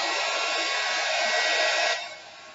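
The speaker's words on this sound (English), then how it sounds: "Now I'm going to take the blowtorch here, or this is an embosser, which is nice." An embossing heat tool blows a steady, loud whooshing stream of air over acrylic pour paint, then drops to a lower hum near the end.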